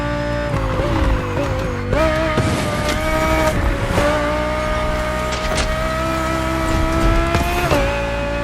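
A 2020 Audi R8 LMS GT2 race car in The Crew Motorfest video game drives hard, its loud engine revving and dropping through repeated gear shifts, with tire noise beneath the continuous roar.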